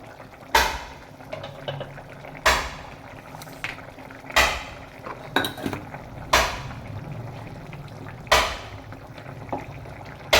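Mixed vegetable curry with fried fish is stirred in a pot, with several loud, evenly spaced clanks of a spoon against the metal over a soft bubbling simmer and no talking.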